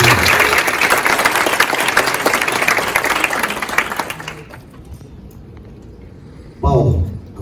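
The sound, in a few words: audience applause at a book launch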